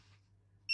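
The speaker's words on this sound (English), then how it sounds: "It's beeping." A soup maker, blending a McDonald's double sausage and egg McMuffin, finishes its cycle with a sudden loud electronic beep that follows a faint low hum.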